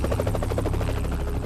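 A helicopter's rotor beats a fast, steady thump over a loud engine drone, continuous and close with no talking.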